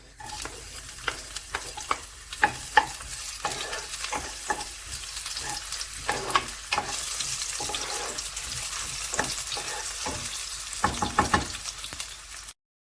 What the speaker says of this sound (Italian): Soffriggiamo un trito d'aglio, scalogno e peperoncino.